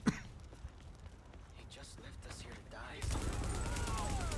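Gunfire from a gun in The Division video game, a sharp shot at the start, then a quieter stretch with scattered noise before a loud, dense burst of rapid shots. Voices talk over it.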